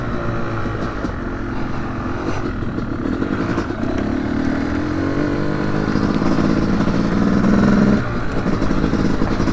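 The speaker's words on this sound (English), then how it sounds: "All right, so I'm on the two-stroke now." A 2025 Yamaha YZ250X two-stroke dirt bike engine heard from the rider's position on a trail, droning loud and steady throughout with rising and falling revs and a rattling mechanical edge.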